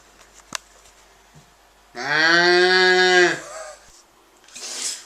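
A single loud, drawn-out cow moo used as a comic sound effect, rising and holding for over a second before fading, with near silence around it and a short faint rustle afterward.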